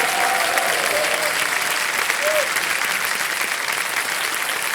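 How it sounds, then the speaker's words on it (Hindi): Studio audience on the KBC 14 game-show set bursts into loud, sustained applause, a dense wash of many hands clapping steadily throughout without a pause. "ताली बज जाए जोरदार।"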